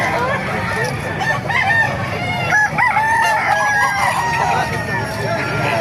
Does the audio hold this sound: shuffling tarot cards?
no